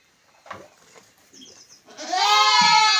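Penned goats and kids shuffle and give a few faint sounds before one loud, drawn-out bleat rings out up close.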